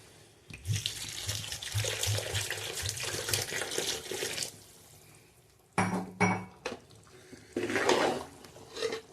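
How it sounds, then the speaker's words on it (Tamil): About a litre of water pours into a pot of masala and rice for mutton biryani in one long splashing stream, then a few shorter pours and clanks follow nearby. "இப்பதான் தண்ணி ஊற்றணும்."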